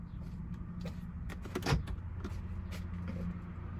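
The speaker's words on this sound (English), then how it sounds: "close the other door" A Toyota Camry car door shuts with a single solid thud midway, amid a low steady background hum, with faint softer mechanical clicks around it.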